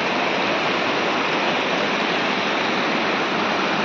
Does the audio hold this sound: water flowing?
yes